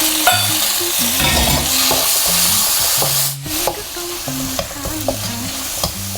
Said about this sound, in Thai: ตอนนี้น้ำมันก็ร้อนแล้วนะครับ เราก็จะพริกกระเทียมเนี่ยลงไปผัดนะครับ ผมจะใส่กุ้งลงไปเลยนะครับ